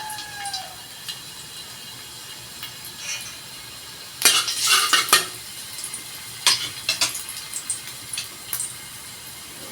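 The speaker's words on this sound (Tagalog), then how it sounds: "Ayan, mag-gisa na po tayo." Ginger sizzling in a pan for a simple home-cooked dish, a quiet low hiss broken by loud scraping stirs and clinks of a utensil against the pan, bunched in bursts through the second half.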